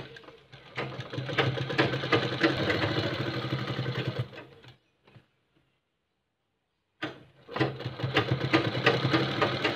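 An electric sewing machine stitches a kurta panel in a steady continuous whir for about four seconds, stops for a couple of seconds of silence, then starts again at the same close, even drone.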